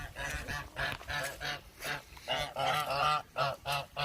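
Geese honk repeatedly in a muddy, rain-soaked yard, a near series of nasal calls in uneven bursts with short gaps between them.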